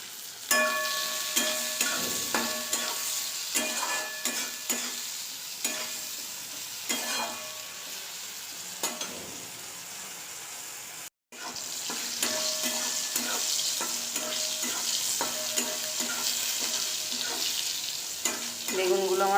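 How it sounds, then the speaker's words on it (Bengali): Brinjal (eggplant) pieces fry in hot oil in a pan, giving a steady sizzle broken by repeated scraping, clicking strokes as they are stirred, with one brief gap in the middle. "বেগুনগুলো আমার ভাজা হয়ে গেছে"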